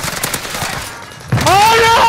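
Video game gunfire, a rapid stream of loud close shots and crackling bursts mixed with shouting voices and a rising whistling sound near the end.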